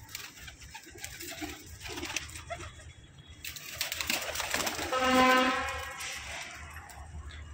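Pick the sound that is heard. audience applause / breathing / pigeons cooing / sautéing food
pigeons cooing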